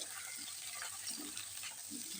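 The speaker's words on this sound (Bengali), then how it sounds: "সব মশলা ভাজা হয়ে গেলে এরপর দিয়েছি ফুলকপিগুলো" Cauliflower florets sizzle as they fry in a pan of cooked spices and ginger paste for a potato and grass carp curry, a steady close frying hiss with faint stirring.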